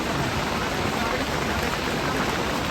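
Steady rain falls at Kedarnath as a dense, even hiss, loud and close, with no breaks or other sounds.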